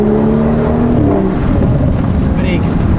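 A BMW F30 335i fitted with a VRSF catless downpipe exhaust revs loudly and close by, its engine note steady and droning across the whole stretch, with faint voices mixed in.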